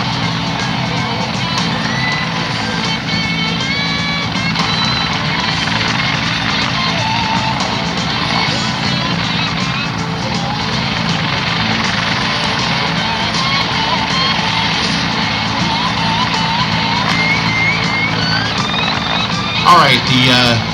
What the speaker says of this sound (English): the Griffon is now climbing straight up to allow the SARTEC some time on the ground to prepare the patient